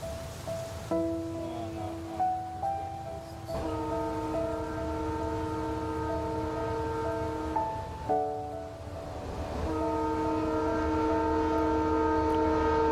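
A train rumbles steadily past while its horn sounds in long sustained blasts, loud and close, broken by a short pause.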